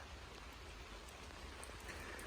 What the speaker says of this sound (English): Oh man, that rain's getting heavier.